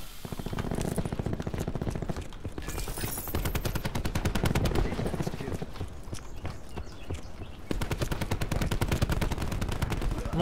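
SMG fire in Call of Duty Black Ops 4, a PC shooter: rapid, crackling bursts of automatic shots, close and loud, continuing almost without pause with brief gaps between strings of rounds.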